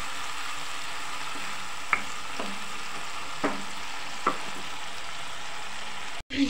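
Tomatoes fry in a pan for chana dal, giving a continuous even sizzle with occasional small spoon clicks and stirring taps, then a brief dropout and a final knock near the end.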